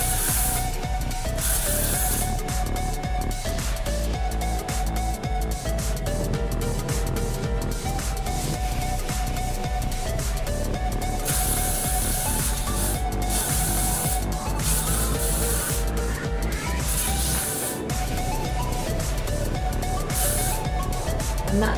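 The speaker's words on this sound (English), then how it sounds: "So I'm going to spray it a little bit" Bursts of hairspray hiss repeatedly over a dense, steady background of other sound, each spray short and close.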